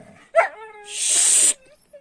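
A Kangal dog gives a short bark. A high whining whimper follows, then a breathy burst of noise, close to the listener. There are faint sounds around it.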